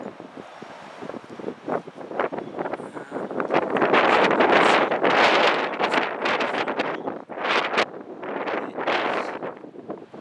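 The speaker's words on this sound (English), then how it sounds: "It's windy." Strong outdoor wind buffets the microphone in loud, roaring gusts that swell and fade. It peaks in the middle and comes in uneven rushes, with no speech.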